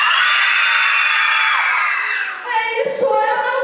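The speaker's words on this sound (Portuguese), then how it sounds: "Vai lá, um grito de medo." A group of children at a party let out a sustained, loud scream of fear on cue, the shrill chorus filling the first seconds before breaking into scattered shouts and laughter.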